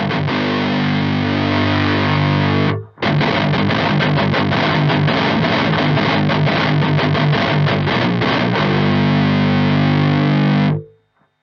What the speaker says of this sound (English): let's roll in the distortion and see how it sounds with this little setup chain we've got